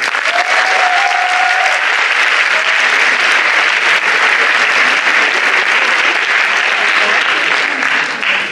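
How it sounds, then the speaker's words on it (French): An audience at an eloquence competition final bursts into sustained loud applause, dense steady clapping filling the whole stretch and easing slightly at the end. "applaudissons Anne Audranly"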